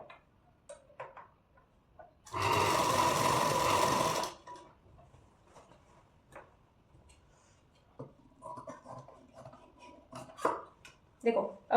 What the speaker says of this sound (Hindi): अब मैं यहाँ से 1/2 इंच पे सिलाई लगा दूंगी।